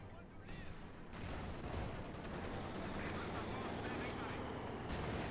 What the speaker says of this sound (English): bombarding Panzer Grenadier here with its 45mm gun. Small high explosive rounds launched moment after moment at the Germans